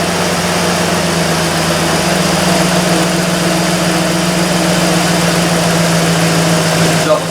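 Warmed-up IROC-Z car engine idles with a steady, loud rumbling drone and a constant low hum, even and unbroken throughout, heard close with no talk over it.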